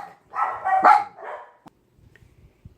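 Dogs bark a short burst of several overlapping yaps indoors, fairly loud and close, then fall quiet leaving faint background clicks; no one speaks.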